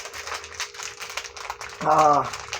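Crinkly product packaging being torn open by hand, a short loud crackling burst near the end of the clip, following quieter rustling and handling under a background of indistinct talk.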